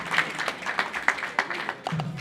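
Brief audience applause at a bar association ceremony in a hall in Multan, a short burst of scattered clapping as a speaker is welcomed to the stage.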